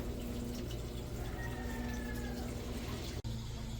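Water runs from a tap at good pressure while laundry is being started, a faint, steady flow with a low hum underneath and a brief cut near the end.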